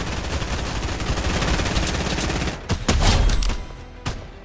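Rapid bursts of gunfire in the video game Fortnite, a dense continuous volley that breaks into a few separate sharp shots near the end, loud and close with no speech.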